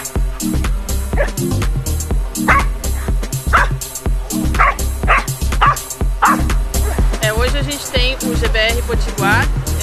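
Police dogs bark at a kennel in a loud, rapid, overlapping chorus. There are high yips and whimpers among the barks, and the racket continues without a break.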